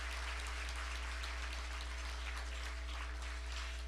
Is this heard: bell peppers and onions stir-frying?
no